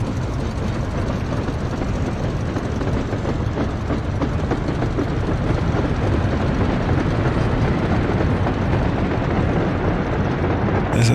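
A very long freight train rolls past in the Soviet-era city-building game Workers & Resources: Soviet Republic, a steady, continuous low rumble and clatter holding at constant loudness throughout, with no voices.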